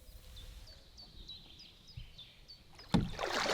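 A boat is paddled upstream on a small Lithuanian river, with faint water strokes under a steady series of bird chirps, ending in a loud close splash and rushing wash.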